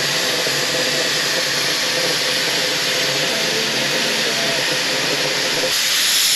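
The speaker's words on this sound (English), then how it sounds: "there's just something about the allure of an old steam train just chugging in, the steam's puffing out of it" An old steam train on Tasmania's west coast hisses loudly and continuously as steam puffs out of it.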